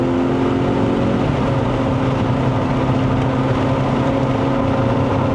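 Engine of a Kia Optima GT with 242 hp and 350 Nm accelerating hard in Sport mode after a kick-down, a loud, steady, droning engine note heard from inside the car.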